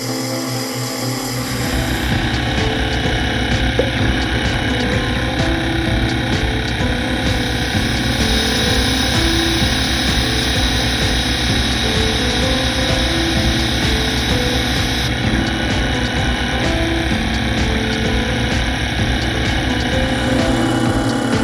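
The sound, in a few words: lathe rough turning a part with a 55-degree insert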